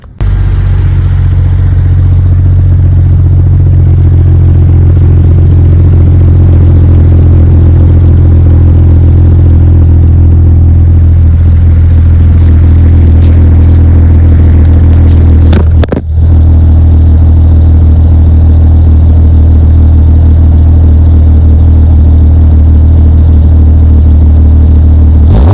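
A 1998 Jeep XJ (Cherokee) idles on its new 2.5-inch exhaust, a loud, steady low rumble that holds for the whole stretch, with one brief dip partway through and no talking.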